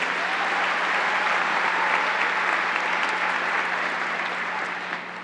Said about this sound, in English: Let's give your Chancellor a big round of applause for his leadership.